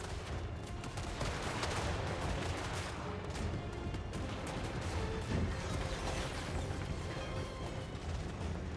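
Dense battlefield gunfire and artillery rumble from the Total War: Warhammer 3 video game form a continuous, fairly faint wash of crackling shots and booms, with no talk.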